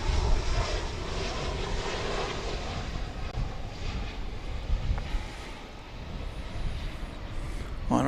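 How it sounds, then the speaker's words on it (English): An Airbus A319 airliner arriving at DFW airport after a flight from Querétaro, Mexico, gives a steady broadband jet roar that holds throughout, distant and sustained, with no talk over it. "a smaller member of the Airbus family, the A319, coming in from Querétaro in Mexico on Runway DFW"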